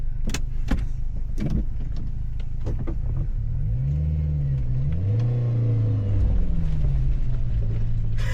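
A tiny camper van with four-wheel drive engaged pulls through mud, its engine rumbling and revving up and down close by in rising and falling surges, with scattered thumps and clunks early on.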